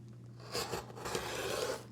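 A rotary cutter slices quilt block fabric along a ruler: a short rasping, scraping run lasting under two seconds, close and fairly soft, with no talk.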